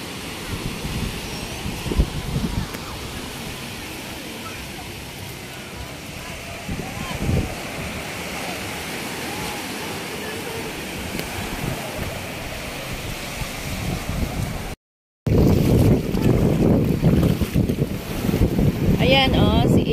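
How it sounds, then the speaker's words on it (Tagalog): Strong waves roll in on a beach in Pangasinan, producing a loud, continuous surf roar mixed with wind buffeting the microphone. After a short break the sound returns louder, and voices can be heard faintly in the background. "Maalon ngayon. Ayan, lakas ang alon."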